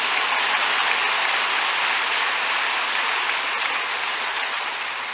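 Sustained, dense applause from a large church congregation at a Sunday worship service, steady and loud throughout and tapering only slightly toward the end, with no voices over it.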